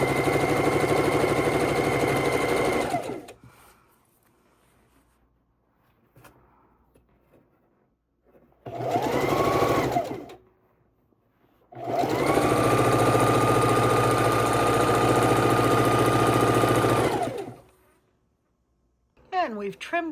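A sewing machine runs in steady bursts as blue quilt strips are stitched together for a king size quilt border, three loud mechanical runs separated by quiet pauses.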